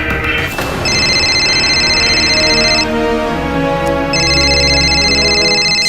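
A phone rings loudly in two long, steady electronic bursts separated by a brief pause, heard over continuous background music in a drama scene.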